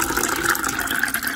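Room-temperature water is poured into a glass, giving a steady, close, trickling splash that runs without a break for about a second and a half, with no voices.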